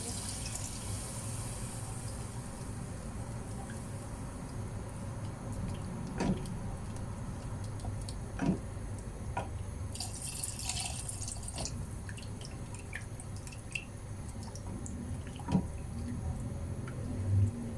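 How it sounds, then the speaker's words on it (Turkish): Cold water poured into a pot while making tomato vermicelli soup, heard as a steady rushing wash of water that runs throughout, with a few sharp clinks and drips rising above it. No one speaks. "Soğuk su koyuyorum arkadaşlar. Un topak topak olmasın diye."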